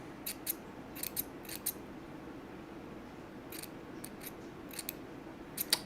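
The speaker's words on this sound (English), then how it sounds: "these one-handed sewing scissors" One-handed sewing scissors snip repeatedly while trimming weed, sharp close metallic clicks arriving in small irregular clusters over a quiet room hum.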